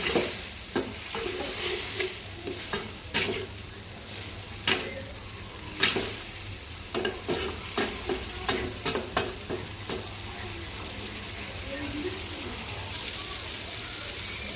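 Stinging catfish (shing fish) and potato sautéed with spices in a pan, a steady close sizzle broken by repeated sharp scraping stirs, with no talking.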